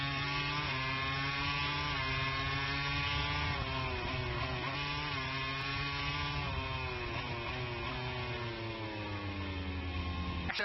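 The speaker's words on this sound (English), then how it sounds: "The Ducati launches out this." Ducati MotoGP bike accelerating out of a corner onto the front straight, heard as a continuous high-pitched engine wail with stepped rising tones through the gears, steady and fairly distant.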